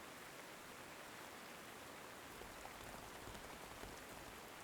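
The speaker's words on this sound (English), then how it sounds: "Who knows how long it's gonna be raining for" Rain falls in the World War II strategy game Panzer Corps 2 as a steady, dense hiss with no breaks. It is faint and alone, with no talk.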